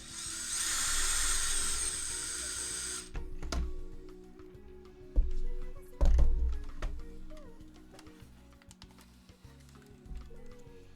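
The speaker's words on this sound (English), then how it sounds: "let's put the bolts back in" Power driver whirring as bolts are screwed back into a custom-built Nerf blaster, a steady high buzz for a few seconds followed by short bursts, clicks and knocks of handling nearby, with no talking.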